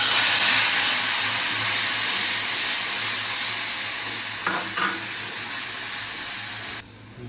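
Onion paste frying with cinnamon and cardamom in a pan for egg korma, a loud continuous sizzle and hiss close up, with a brief stir around the middle and a sudden cut near the end.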